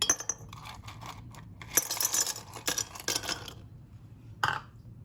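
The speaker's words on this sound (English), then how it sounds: "Let's add some ice." Ice cubes clink and rattle into a glass of watermelon and strawberry agua fresca, a scattering of sharp bright clinks and short clatters, close and without talk.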